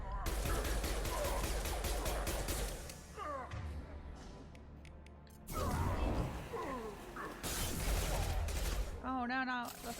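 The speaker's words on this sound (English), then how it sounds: "That's SMG." Rapid bursts of SMG fire in Mass Effect Legendary Edition, with clustered shots loud through much of the clip, under game music and effects, while a voice talks intermittently.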